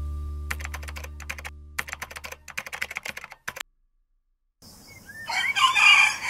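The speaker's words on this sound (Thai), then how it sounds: "บรรยากาศยามเช้าก็เสียงไก่ขันมันช่างเข้ากันดีเลยทีเดียวเราก็เลยใส่มานิดนึงครับ" A rooster crows once in the distance after keyboard typing stops, its call rising clear and loud at the end over faint outdoor ambience.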